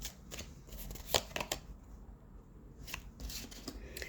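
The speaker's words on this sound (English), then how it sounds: "Spirit, one more shuffle." A deck of tarot cards is shuffled close up in quick riffling bursts of crisp, papery flutters and soft slaps, repeated across a few seconds.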